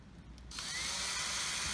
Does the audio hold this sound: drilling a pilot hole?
yes